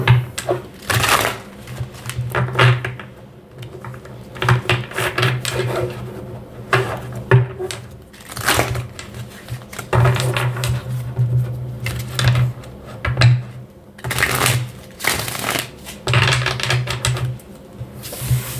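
Repeated bursts of crisp tarot card riffling and tapping, in irregular clusters, with a steady low hum underneath; no talking.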